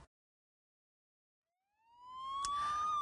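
Fire engine siren wails in, a single rising tone that grows loud after near silence, with a brief clank in the middle.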